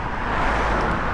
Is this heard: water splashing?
no